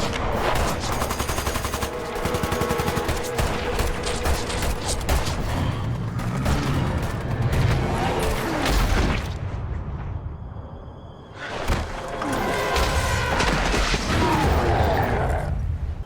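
Heavy gunfire in a Resident Evil game scene with Sherry Birkin and Wesker's son: long stretches of rapid, dense shots and booming impacts, a short lull near the middle, then another loud volley that runs to the end.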